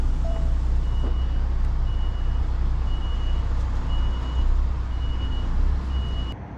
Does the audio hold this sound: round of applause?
no